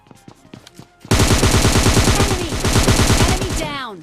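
Thompson submachine gun in a battle royale game fires one long sustained automatic burst of rapid, loud, close shots, preceded by a few scattered single shots and footsteps, with a short whine at the end.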